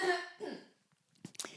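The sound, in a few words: cough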